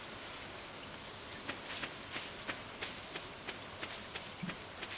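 Rain falling in the video game Stardew Valley, a soft, steady hiss with faint scattered drop ticks, quiet and continuous with no voices.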